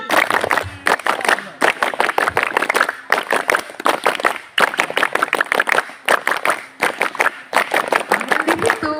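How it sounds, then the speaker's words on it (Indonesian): Group of scouts at a hillside camp doing the rhythmic scout clap, bursts of sharp unison claps in repeated patterns with brief gaps, loud and close, mixed with some crowd voices. "Sekali lagi, tepuk pramuka 5 kali."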